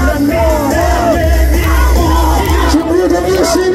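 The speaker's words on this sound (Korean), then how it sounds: "큰 목소리와 박수, 함성" At a street rally in Daejeon's Euneungjeongi, a dense crowd roars with sustained yelling, whooping and shouting, loud and close throughout, with individual voices rising out of the mass of cheers.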